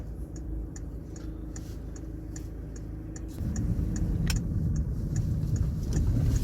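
A car drives through a foggy town on the way to a market, with steady low road and engine rumble that swells partway through, plus faint regular ticking from the turn signal.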